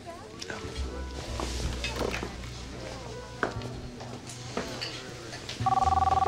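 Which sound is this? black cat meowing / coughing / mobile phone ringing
mobile phone ringing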